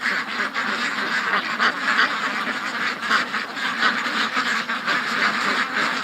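Ducks quack and honk continuously in a noisy flock, close and loud, with overlapping calls and no talking.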